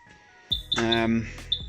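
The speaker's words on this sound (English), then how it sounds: "Excuse my buggy beeping." Short high electronic warning beeps from a mobility buggy repeat at a steady pace, with a voice talking over the middle stretch and the beeping continuing once it stops.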